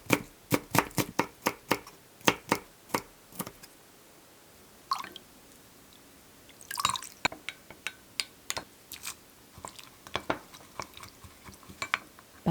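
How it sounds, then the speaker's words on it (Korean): A knife finely chops green and red chili peppers on a cutting board at close range. It makes crisp, sharp taps in quick irregular bursts with short pauses between them. "청고추, 홍고추 잘게 썰어주세요"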